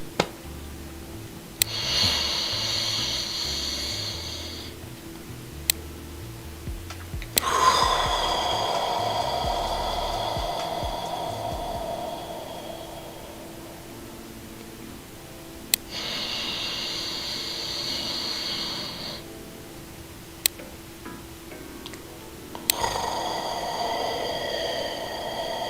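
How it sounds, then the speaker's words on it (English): Slow, deliberate deep breathing during a relaxation demonstration: several long audible inhales and exhales alternate in a calm rhythm, close and fairly soft, with clicks between breaths and no talking. "you do want to make sure you hear your breath going in and coming out."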